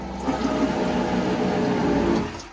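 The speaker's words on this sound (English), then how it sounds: "This one happens to be electric, so when you're ready to flush," An electric quiet-flush toilet in the guest bathroom of a boat runs with a steady whirring pump and rushing water, loud and continuous for a couple of seconds before tapering off.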